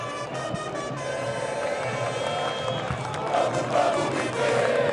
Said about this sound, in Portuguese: começa aí a torcida do Internacional com a sua festa no Estádio Centenário